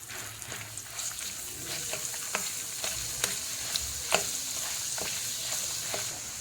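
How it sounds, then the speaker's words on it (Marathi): Chili and garlic paste frying in hot oil, a steady sizzle with scattered scraping clicks of a spoon stirring the pan. "त्याच्यानंतर आपल्याला मिरची, लसूण वाटण टाकायचं आहे। चांगलं तेलात परतून घ्यायचं आहे।"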